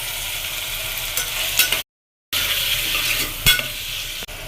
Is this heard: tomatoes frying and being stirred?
yes